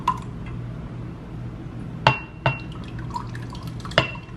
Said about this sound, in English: I also have the tomato soup to put in the bowls